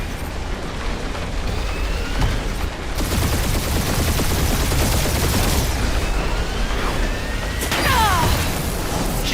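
A sustained gunfire barrage in the Guardians of the Galaxy video game: a dense, continuous roar of rapid shots and blasts that stays loud and steady throughout, with no talking.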